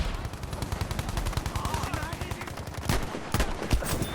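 Gunfire in the Battlefield V video game, rapid bursts of sharp shots in a quick rhythm followed by a few heavier isolated blasts, fairly quiet overall.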